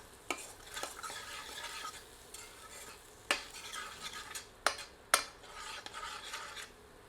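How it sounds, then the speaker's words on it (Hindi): Masala for lauki kofta curry fries in oil over medium heat, a soft continuous sizzle broken by sharp clicks and scrapes of a ladle against the pan; no one speaks. "इसे 2 से 3 मिनट मध्यम आंच पर भूनते हैं"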